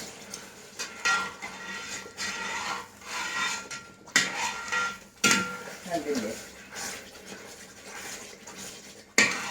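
A spoon stirs and scrapes thick beetroot lehyam cooked with ghee around a pan, giving repeated rough rubbing and scraping strokes with occasional knocks against the metal. Someone speaks over it.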